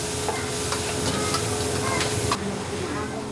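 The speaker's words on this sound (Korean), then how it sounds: "원하는 재료를 직접 선택해 볶아 먹는 이 요리는 싸고 푸짐합니다." Chosen ingredients stir-fried in a local restaurant kitchen, a dense, steady sizzle and hiss with scraping stirs running throughout and faint background voices.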